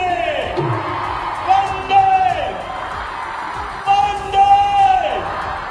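A crowd whooping and cheering at Narendra Modi's road show in Ahmedabad, with loud swelling shouts that rise in two waves over a constant background roar.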